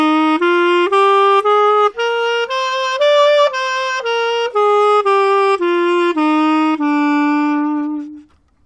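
A clarinet plays a steady Locrian scale on E, about fifteen notes up and back down, each clear and even, ending on a long held low note.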